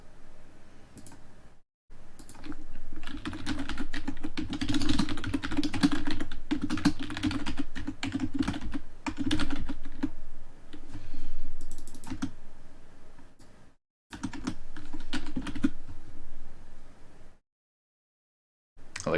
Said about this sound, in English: mechanical keyboard noises